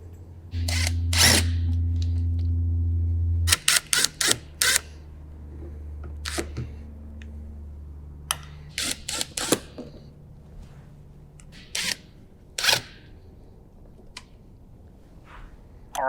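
A power driver backs out T25 Torx bolts from a John Deere Gator XUV500 body panel in a run of short, sharp whirring bursts separated by pauses, close by and with no talking.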